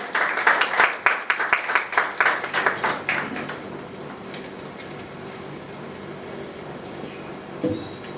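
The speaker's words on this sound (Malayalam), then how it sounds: "നല്ലൊരു കയ്യടിയോടുകൂടി തന്നെ അദ്ദേഹത്തെ ക്ഷണിക്കുന്നു" Audience applause welcoming guest Deepu RS Chadayamangalam onto the stage at the URF World Record award event, a burst of loud clapping that fades into quiet room noise after about four seconds.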